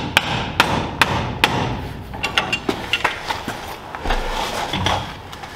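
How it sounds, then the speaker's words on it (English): A hammer strikes the end of a steel track pin on a Nashorn Sd.Kfz. 164 tank track, bending it over with a run of sharp metallic blows, regular at first and then lighter and quicker, close up. "then with a hammer I bend the end over."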